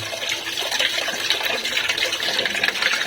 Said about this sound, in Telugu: ఇప్పుడైతే వాటర్ వాష్ చేసి బియ్యంని